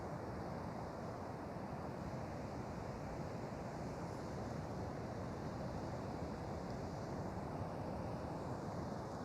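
Steady, unbroken wash of ocean surf on a shore, close and fairly quiet, with wind buffeting the microphone and no lull for the full stretch.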